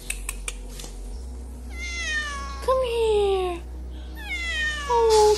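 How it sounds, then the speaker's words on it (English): A stray cat stuck inside a house full of dogs meows several times in drawn-out, rising-and-falling cries, close and clear, with a few small knocks at the start. "Oh, there's a cat stuck."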